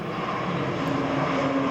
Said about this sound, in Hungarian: Repülő!